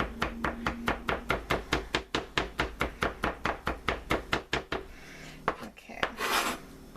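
A knife chops onions on a board with about twenty quick, even strokes in a steady rhythm, followed by a few scattered scrapes and knocks. The sounds are close and clear, with no talking.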